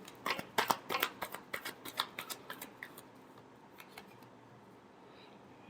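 A deck of tarot cards is shuffled up close, a quick run of crisp riffling snaps in a steady rhythm that slows and fades out, quiet with no talking.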